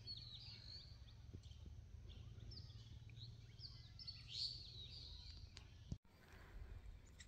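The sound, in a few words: birds chirping outdoors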